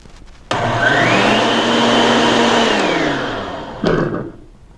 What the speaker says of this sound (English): I'm putting it in the blender with spring water. Here we go. Let's blend this and see how it comes out.